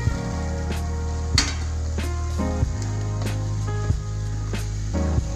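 Chopped tomatoes are stirred into sorrel leaves cooking in a pan, with a gentle sizzle beneath periodic spoon clinks and scrapes against the pan, close and steady.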